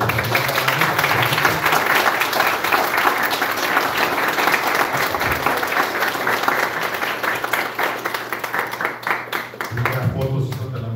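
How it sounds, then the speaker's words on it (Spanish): An audience at a talk on women's rights gives sustained applause, steady, dense clapping lasting several seconds with a low hum underneath. "Un aplauso."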